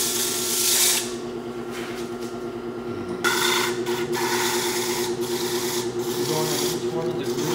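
Sandpaper of 120 grit pressed against a turned wooden basket spinning on a lathe, a steady close hissing rub over the motor's hum, briefly easing off then resuming as the paper moves into each groove.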